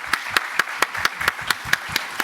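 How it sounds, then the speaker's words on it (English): Audience clapping for a panel at a water and climate conference session, a steady rhythmic patter of hands at roughly four to five claps per second, moderately close and even throughout. "A round of applause for the panel,"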